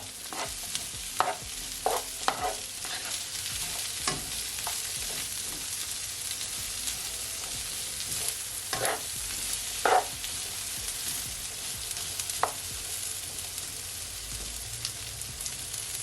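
Cabbage and bell peppers fry in a pan with a continuous sizzle, broken by intermittent stirring scrapes and clinks of a utensil, close and moderately loud, no talking.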